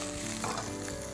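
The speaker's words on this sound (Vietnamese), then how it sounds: "Tiếp tục thì Hưng sẽ cho vào trong chảo khoảng 2 muỗng canh dầu ăn để chúng ta xào cái phần rau củ này" Vegetables stir-fry in a pan with cooking oil and minced garlic for stir-fried instant noodles with beef, making a brief, loud, close sizzle with a faint scrape of stirring.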